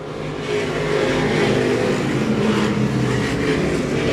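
Race cars roar loudly and continuously around the oval at Claremont Motorsports Park coming off turn 4, a dense, close wall of engine noise that swells in the first half-second and then holds steady.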